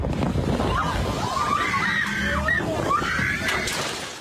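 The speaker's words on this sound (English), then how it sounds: "The blast is nerve-rattling as the screams of terror from the passengers on board." Shrill, wavering screams from passengers on a Hawaii tour boat struck by a flying lava bomb carry over heavy sloshing water and rumbling noise, loud and continuous throughout.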